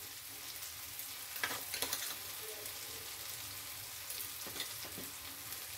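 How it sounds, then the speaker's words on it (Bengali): Tomatoes with salt frying in a pan for a Bengali murighonto, a steady soft sizzle running throughout with a few brief clinks of stirring. "টমেটো ভাজা হয়ে গেছে"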